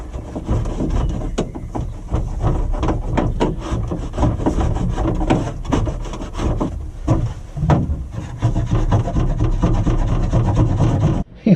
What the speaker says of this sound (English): I'm just taking it off with the blunt screwdriver